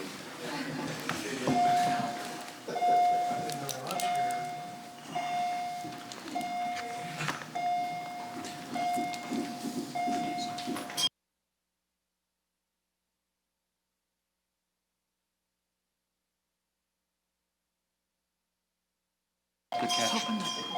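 A division bell rung by the Sergeant at Arms for a standing vote in a legislative chamber gives a long, steady, unbroken ring for about ten seconds over murmuring voices. It stops abruptly into silence, then resumes briefly.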